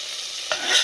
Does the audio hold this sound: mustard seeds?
yes